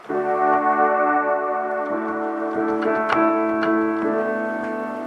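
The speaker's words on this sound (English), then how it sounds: "I have a piano sound and I have a pad sound" Sustained keyboard chords with a soft, lingering pad beneath them, notes blending into a smooth layered wash with a few brighter struck accents.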